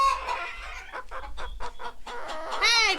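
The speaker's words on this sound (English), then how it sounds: "this is my favorite chicken now" Farm chickens cluck in a busy run of close, choppy calls, with one hen louder near the end, all heard without any talk over them.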